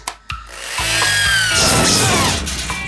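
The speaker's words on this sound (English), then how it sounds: "Drill." A power drill whirs loudly and steadily for a couple of seconds after a couple of sharp knocks, with a ratcheting mechanical texture, in a cartoon scene; no talking.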